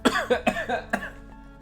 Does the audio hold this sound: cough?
yes